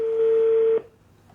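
A single steady telephone tone sounds loud and clear for under a second, then cuts off, leaving a faint line hiss.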